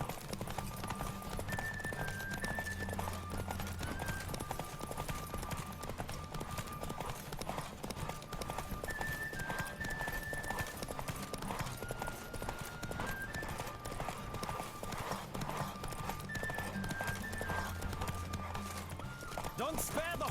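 Rapid, steady hoofbeats of a galloping horse in The Witcher pound throughout, under a looping musical melody, with a voice speaking over it.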